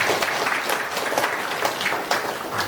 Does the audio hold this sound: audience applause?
yes